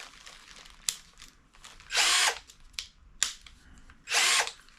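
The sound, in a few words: cordless hammer drill running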